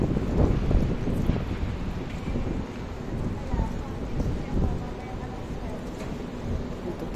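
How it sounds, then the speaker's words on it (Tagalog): Gusty wind buffeting the microphone, a low rumbling roar with irregular bursts, steady throughout. "Malamig na, mahangin pa."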